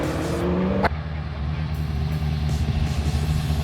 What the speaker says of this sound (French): On tient un régime assez élevé pour justement renettoyer les bougies.